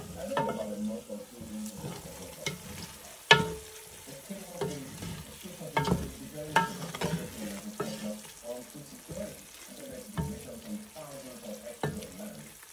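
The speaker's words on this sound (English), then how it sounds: "gonna add a little bit of iru locust beans gonna mix it together" Egusi soup with iru locust beans is stirred in a pot, giving wet scraping and sloshing strokes with a few sharp clacks of the spoon against the pot over a low simmering sizzle, with a voice talking now and then.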